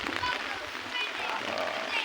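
Steady rain falling on tents and the ground at a council scout jamboree camp in Talisayan, Misamis Oriental, a constant close hiss throughout, with someone talking over it.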